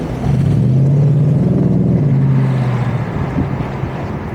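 Lexus SC 430 engine accelerating in power mode, a steady mid-pitched rising drone that swells in, holds for about three seconds, then eases into a rumbling cruise.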